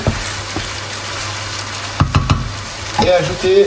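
Minced meat filling for a meat pie sizzles steadily as it cooks uncovered in a pan, a close, continuous frying hiss broken by a few stirring knocks near the end.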